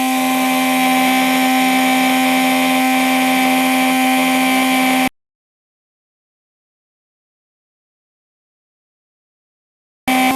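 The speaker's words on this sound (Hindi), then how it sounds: "इस समय 3 नंबर यानी फुल स्पीड पर हमने इसको रन कराया है।" An Atomberg BLDC mixer grinder runs at full speed on setting 3 with a loud, steady, tonal motor hum. It cuts off abruptly to silence partway through, then starts up again right at the end.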